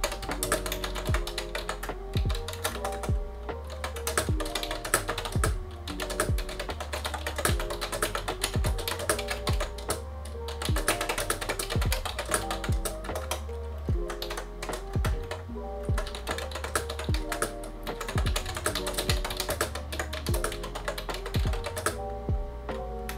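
Continuous typing on a Yunzii Actto B303 typewriter-style mechanical keyboard, with a steady run of close, crisp key clacks and taps and no talking.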